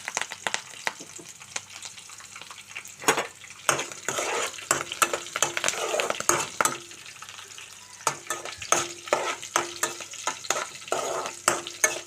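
Steady oil sizzle from onions and curry leaves frying as tempering for amaranth leaf fry, punctuated by sharp clinks and scrapes of a spoon stirring the pan, with no voices.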